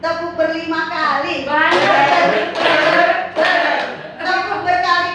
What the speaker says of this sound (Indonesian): Tepuk ber 5 kali.